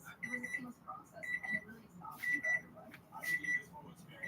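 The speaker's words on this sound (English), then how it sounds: "I didn't turn the timer off before. That was for the potatoes." A kitchen timer set for cooking potatoes beeps in short repeated high bursts, sounding in a home kitchen with faint clatter and background noise.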